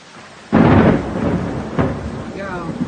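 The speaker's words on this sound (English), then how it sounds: "And big boomers, a lot of lightning, and way too much rain." A thunderstorm with heavy rain: a loud thunderclap bursts in and rumbles, followed by a second crack about a second later, over steady rain noise.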